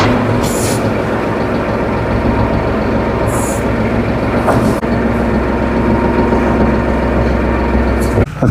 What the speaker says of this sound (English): Now we're going to go fire up the tractor